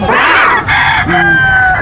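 Roosters and chickens, stag fowl at a Bocaue market, crow and cluck loudly and close, several voices overlapping in a dense, continuous din with a brief dip midway.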